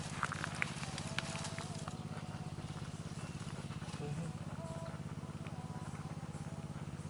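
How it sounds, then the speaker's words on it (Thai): A water pump runs on a farm with a steady, low, chugging engine drone that never lets up, and faint voices murmur in the background. "ได้ยินเสียงเครื่องสูบน้ำ"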